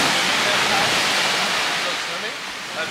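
Surf washes onto a soft-sand beach in Tangkoko National Park, Indonesia, as a loud, steady, close rushing roar that fills the whole stretch and eases slightly toward the end.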